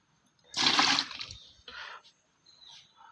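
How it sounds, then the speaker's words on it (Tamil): Water from a mug splashes into a homemade plant fertilizer mix, a close, brief gushing pour followed by a smaller second splash and faint trickles in a quiet setting. "இதோட ரெண்டு பக்கு தண்ணி ஆட் பண்ணுறோம்"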